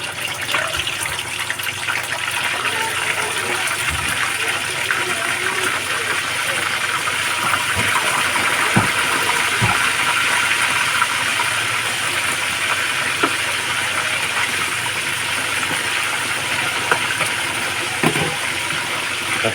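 Chicken marinated in fish sauce frying in hot oil, a steady loud sizzle and hiss that holds evenly throughout with a few faint pops and clinks, no talking.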